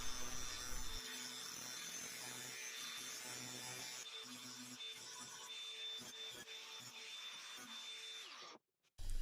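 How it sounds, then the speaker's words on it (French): Wood being deburred and its edges rounded, with a quiet rasping and rubbing of a tool against cut boards in short repeated strokes, fairly close in a quiet workshop. "je viens ébavurer les coupes et arrondir les bords."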